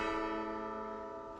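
A single resonant bell tone from the 7-bell puzzle in Silksong rings out clear and rich, then slowly decays over about a second and a half, alone without speech.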